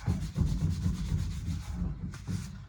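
A towel rubs oil into a crosscut mango wood cutting board. Close, soft, rhythmic rubbing strokes come in quick succession.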